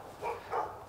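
Dogs bark in a residential neighborhood at dusk, two muffled barks at a moderate distance, each about a quarter-second long.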